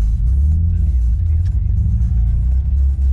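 A Nissan 300ZX Twin Turbo heard from inside as it drives, its engine a steady, loud low rumble with a faint whine on top and no clear revving.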